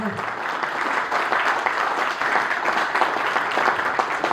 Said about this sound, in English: none other than Mr. Prakash Bansali, with a huge round of applause.